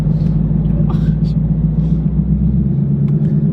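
A C5 Corvette Z06 engine rumbles steadily at low revs, held in first gear while turning a corner, a deep continuous drone that eases off near the end, with faint voices in the background.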